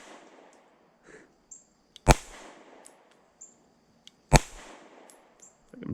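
Two sharp, distinct pistol shots from a Fusion Firearms XF Pro, spaced about two seconds apart on an indoor or range setting, each a loud crack with quick decay amid faint background noise.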